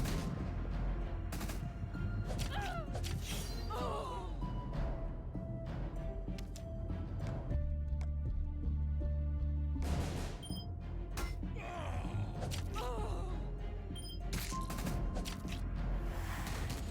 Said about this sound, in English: Fireworks still going off. Like literally, fireworks been going off all day.